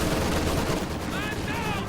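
Dense gunfire and explosive blasts from a World War II strategy game rumble continuously, with a grenade going off amid machine gun fire. The din is loud and unbroken, and a faint voice sits beneath it.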